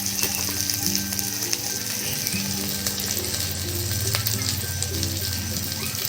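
Spices with turmeric and salt sautéing in a pan for an egg curry give off a steady, close sizzle and crackle that runs the whole time, with faint scraping from stirring.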